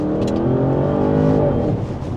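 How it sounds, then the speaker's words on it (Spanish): A 2025 Audi RS 7 Performance at full throttle, its engine roaring loud and close with a rising, rich harmonic pitch that holds steady before easing slightly at the end. "si presionamos el acelerador a fondo"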